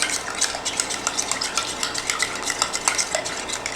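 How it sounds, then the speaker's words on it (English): Gluten-free banana muffin batter made with rice flour being stirred in a bowl, a steady rhythm of spoon scrapes and clinks against the sides, close and fairly loud with no talking. "And so you just stir it."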